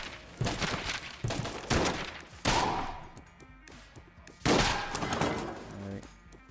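Gunfire in the top-down roguelike shooter Enter the Gungeon, with several bursts of rapid machine gun shots spread over a few seconds, each loud onset decaying into a rattling tail, alone without talk.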